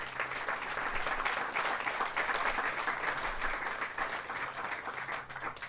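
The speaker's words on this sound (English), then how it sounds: "let's give them a round of applause" An audience at a tennis hall of fame ceremony gives a round of applause for high school tennis award winners, an even, moderately distant clapping that holds steady throughout.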